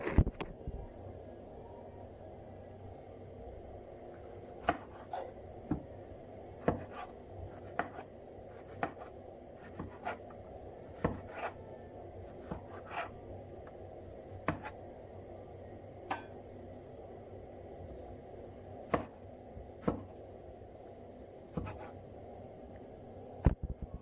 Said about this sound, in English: Then let me cut the tomatoes